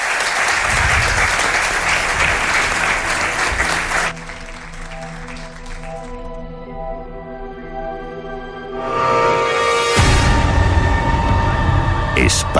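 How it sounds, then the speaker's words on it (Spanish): Studio audience applause for Paloma Navarrete on a late-night radio show, a loud burst of clapping for about four seconds that drops away under a quieter tonal bed, then a swell of sound returning near the end. "Os pido un aplauso para Paloma Navarrete"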